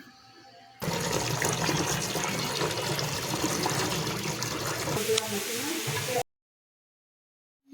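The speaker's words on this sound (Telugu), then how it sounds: "మళ్ళీ వాటర్ వేసి నీట్గా క్లీన్ చేసుకోవాలి" Fresh ginger is swished and rubbed by hand in a basin of water to rinse off skin and sand, giving a loud, continuous sloshing and splashing that lasts several seconds, then stops abruptly into silence.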